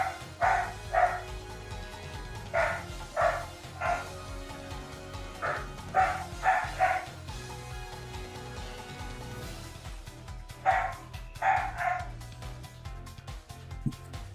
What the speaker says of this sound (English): They're such loud little barky boys.